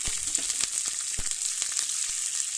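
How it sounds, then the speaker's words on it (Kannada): Dal and green chillies frying in a pan for a pumpkin dish, a steady close hiss of sizzling oil with scattered soft pops and occasional stirring clicks, no voices. "ಬೇಳೆ ಹಾಕಾಯಿತು ಫ್ರೈ ಆಗಿದೆ ಮೆಣಸಿನ್ಕಾಯಿ ಹಾಕಿದ್ದೀನಿ"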